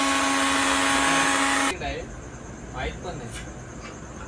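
A kitchen mixer grinds a masala paste of dried coconut with a loud, steady whirring drone that stops abruptly after about two seconds. Faint background noise and indistinct voices follow.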